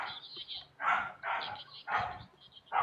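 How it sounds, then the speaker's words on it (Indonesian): Several loud, close dog barks come in bursts with short gaps between them, over a murmur of room noise. "Suara guguknya siapa itu?"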